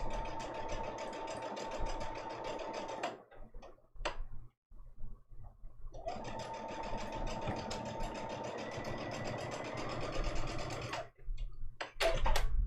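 A sewing machine stitches quilt seams in two long runs of steady, rapid mechanical whirring, separated by a short pause with a few brief clicks, and a final burst near the end. No one speaks.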